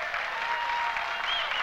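A crowd applauds steadily and loudly throughout at the 1996 PBT World 8-ball finals pool match between Efren Reyes and Jimmy Wetch. The sustained, dense clapping holds at an even level with no pauses.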